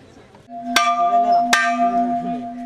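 A class bell made from a car wheel is struck twice at a church used for seminary lessons, each clang bright and metallic with a long sustained ringing tone between and after the hits.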